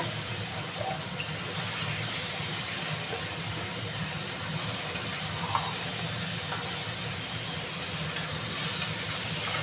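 Spices with coriander powder sauté in a pan for a mushroom curry, giving a steady, moderate sizzle with faint ticks and scrapes of stirring scattered throughout.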